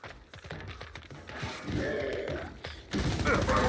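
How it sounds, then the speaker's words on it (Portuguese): Muffled thumps and distant booming bursts from Gears 5 multiplayer gunfire and explosions, growing louder and denser toward the end. "Agora eu tô escutando as explosões. Ah, lá no fundo."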